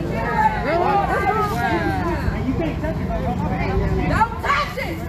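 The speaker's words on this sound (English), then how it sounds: "you can hear the reaction from the crowd" A protest crowd reacts as a sheriff's deputy tries to shut down a generator: agitated overlapping voices, shouting and hubbub close by, loud and continuous.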